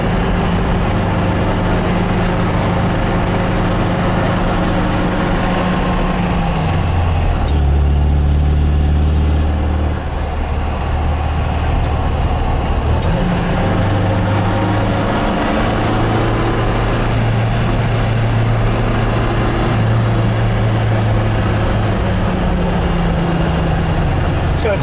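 A 1967 MGB GT's engine drones steadily on a test drive in Laguna Beach, its pitch dropping and swelling as revs change after a downshift, with wind and road noise close by.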